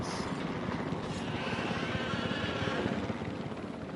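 A helicopter in the video game Jurassic World Evolution 3, under attack from flying reptiles, gives off a continuous close rotor whir and thrum that holds steady at moderate loudness with no speech.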